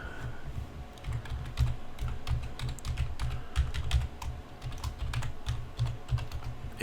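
Someone types on a computer keyboard to log in, a quick, steady patter of close key clicks continuing throughout, with a low hum beneath.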